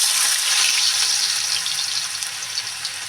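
Diced potatoes sizzling in hot oil in a pan as a winter tiffin is cooked, a steady close hiss that eases slightly toward the end.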